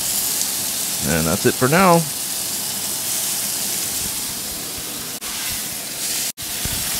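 A steak sears in a hot pan with a loud, steady hiss and sizzle that runs the whole time. Someone speaks briefly over it near the start.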